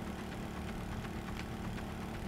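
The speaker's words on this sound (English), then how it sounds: "We have a little bitty go-kart engine in here." A small go-kart engine idles in the game Stormworks with a steady low buzzing drone and faint rhythmic ticking, constant and unchanging throughout.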